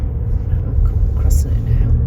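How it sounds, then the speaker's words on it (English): A car on a New England road makes a deep, steady rumble close by, heard from inside a moving vehicle with a low engine and road drone throughout. "there's a car coming"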